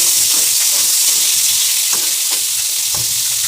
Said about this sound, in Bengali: একইভাবে পটলগুলো ভেজে নেব